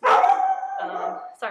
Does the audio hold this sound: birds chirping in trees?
no